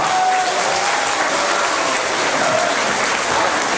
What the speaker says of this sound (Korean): 서로를 위해서 박수 한번 쳐주시면 좋겠습니다.